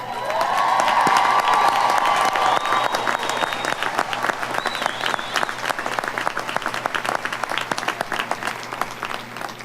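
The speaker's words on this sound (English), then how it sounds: "That round of applause was a big thank you." Commencement crowd gives sustained, steady applause for graduating veterans and active-duty military, with scattered cheers and a whoop rising early, and the clapping continues throughout at a close, full level.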